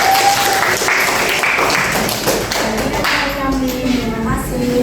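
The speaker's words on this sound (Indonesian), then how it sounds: "Tepuk tangan dong buat kelompok 3." Classroom applause for a student group after their presentation on negative numbers, a dense wash of clapping that runs throughout, with voices talking over it near the end.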